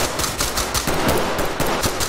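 Rapid bursts of close, loud gunfire in the tactical shooter Ready or Not, several sharp shots in quick succession filling the moment.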